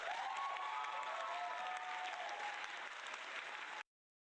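Canned applause effect fired from a stream deck: a dense burst of clapping and crowd cheer at steady loudness for nearly four seconds, then an abrupt cut to silence.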